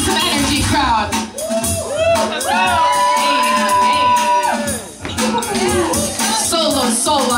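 Crowd at a breakdance battle whooping, cheering and shouting with rising excited voices, loud and dense, with a brief dip midway before the roar resumes.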